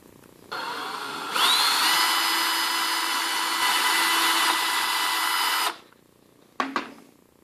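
A power drill drives screws into a scrap-built leather stitching pony, whining up steadily for several seconds under load, then spinning down, followed by a brief clack of handling nearby.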